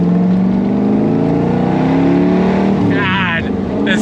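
A 1966 Chevrolet C2 Corvette Stingray engine revs loud and close as it runs through a Muncie 4-speed manual gearbox, a steady deep drone that rises and changes pitch near the end, with a voice speaking over it.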